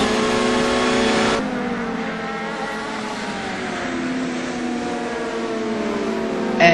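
Race cars, among them an Audi, run on a circuit during a GRC Trophy race, a loud continuous engine drone whose pitch shifts as cars pass, with a sudden change early on.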